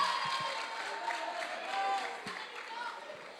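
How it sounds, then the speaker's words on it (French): An audience at a debate competition applauds and cheers for a team, a dense, steady wash of clapping and crowd noise heard throughout with voices mixed in. "mesdames et messieurs, applaudissez la première année C"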